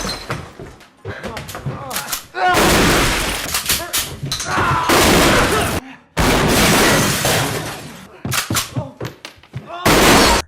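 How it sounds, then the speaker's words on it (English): Bursts of loud gunfire and crashing impacts in chaotic waves, with shouting voices mixed through the commotion. "dodging a barrage of gunfire"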